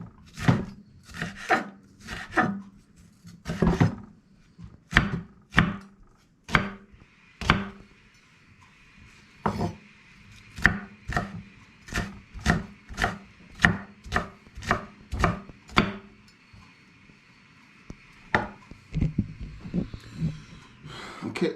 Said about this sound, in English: Cutting the hedges.